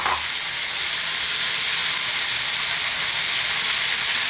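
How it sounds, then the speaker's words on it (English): Cold cooked rice frying for chicken fried rice in a hot pan, giving a steady loud sizzle that goes on the whole time with no talking. "Can you hear that sound? That's exactly what you want. You want to be frying the rice."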